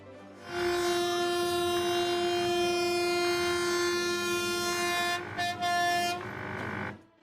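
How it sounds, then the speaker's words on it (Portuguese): Approaching train at a level crossing in Baku sounds a loud, sustained multi-tone horn in long blasts with short breaks, ending with a final blast that cuts off. "todo o alerta que os motoristas recebem vem do som desesperado da buzina de um trem se aproximando em alta"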